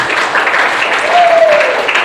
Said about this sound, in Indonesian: beri tepuk tangan yang meriah untuk kelompok 1